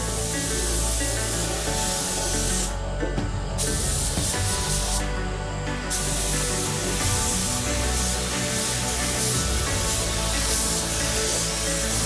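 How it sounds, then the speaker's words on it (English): A spray gun lays satin black top coat on the underside of a Holden HQ sedan under rebuild, giving a steady, loud continuous hiss with two brief pauses. "Nice satin black top coat going on now."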